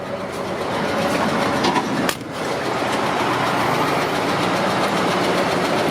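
A 1995 GMC 2500 van engine idling roughly, running unevenly with a rough, chugging rumble and a brief sharp click partway through, steady and close with no talking.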